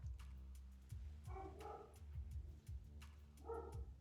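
Small dog barking indoors in a few short yips and woofs, spaced irregularly over a low steady background hum, fairly faint overall.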